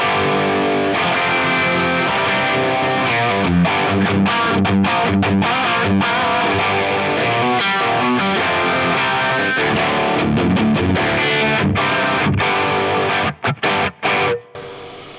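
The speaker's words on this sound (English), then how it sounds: "At the stock settings, the Plexi 50 watt 6550 sounds like this." Electric guitar through an Axe-Fx III Marshall Plexi 50 watt 6550 model at stock settings, a dense, distorted riff with scratchy pick attack played loudly and continuously, ending in a few short stabs.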